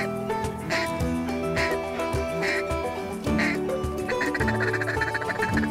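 Ducks quacking during a waterfowl hunt in Manitoba, repeated calls in a steady rhythm layered over a busy, tonal background, fairly loud and without speech.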